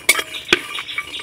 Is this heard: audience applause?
no